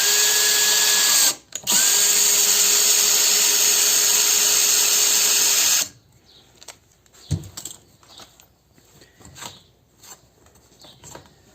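A thread-tapping drill bit cuts and clears a screw thread with a loud, steady power-drill whine for about six seconds, pausing briefly once, then stopping; quieter clicks and handling noises follow.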